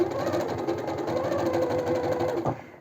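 Sewing machine running a steady stitch along the edge of warm tweed trousers with lining, a continuous close mechanical whir with rapid even needle rhythm that stops abruptly near the end.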